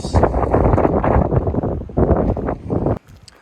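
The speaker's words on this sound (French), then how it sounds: "Vous m'excuserez pour le vent aussi" Heavy wind buffeting the microphone, a loud, rumbling roar with gusty surges that drops off abruptly near the end.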